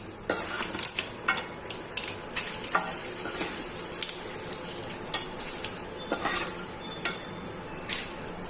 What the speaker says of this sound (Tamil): இதோட இதை நல்லா வறுத்துக்கலாம்.